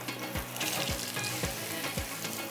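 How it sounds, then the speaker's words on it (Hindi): Food fries in a pan with a continuous close sizzle, broken by regular soft scraping strokes of stirring about every half second. "लेकिन मैं इसको पहले फ्राई कर लूँ"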